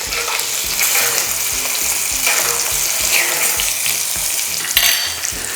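Steak frying in a pan with a butter and oil mixture, with steady loud sizzling and crackling throughout and bursts of spattering as fat is spooned over the meat; no voices.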